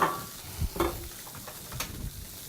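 Salmon searing in a hot pan, sizzling softly and close, with occasional spatula scrapes and light clicks.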